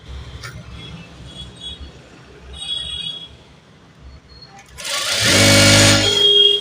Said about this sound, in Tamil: எக்ஸ்ட்ராவாக இன்னொரு தையல் வந்து போட்டுறேன்